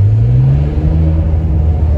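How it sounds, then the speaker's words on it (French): Ferrari 599 V12 engine revving in a steady high-pitched drone with a deep rumble beneath, loud and close throughout, no talking. "Le moteur, là, le bruit, il est aigu, il est magnifique."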